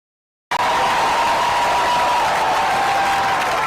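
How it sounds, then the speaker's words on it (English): A political rally crowd bursts into loud, sustained cheering and applause after a sudden start, a broad roar holding steady to the end with a faint held whistle or tone running through it. "listen to the crowd. They're cheering because they're hearing criticism of the Democrats"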